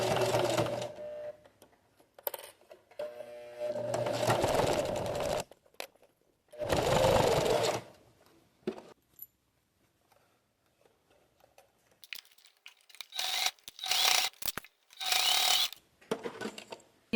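A sewing machine stitches bias binding onto a fabric box in several bursts of rapid mechanical whirring, separated by pauses with small clicks and fabric handling, close up and without talk.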